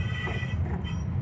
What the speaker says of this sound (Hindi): ये व्हील में से आवाज़ आ रही है चलती हुई गाड़ी में